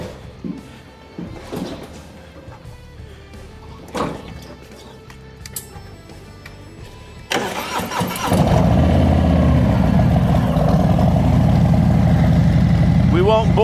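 2022 Harley-Davidson Low Rider S motorcycle engine starting after some scattered clanks and handling noises, then settling into a loud, steady close-up idle rumble that fills the rest of the clip.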